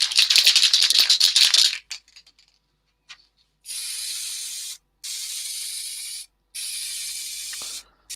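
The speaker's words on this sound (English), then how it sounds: "Now what I'm going to do is just put a coat of lacquer over this." A can of lacquer sprays a coat onto a surface in several loud, steady hissing bursts separated by short pauses, after an opening stretch of rapid rattling from the can being shaken.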